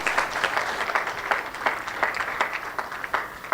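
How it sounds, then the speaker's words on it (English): Applause from an audience at a UN Tourism regional forum on gastronomy tourism in Africa, a moderate, steady patter of many hands clapping, somewhat distant and without talk. "A big round of applause, ladies and gentlemen."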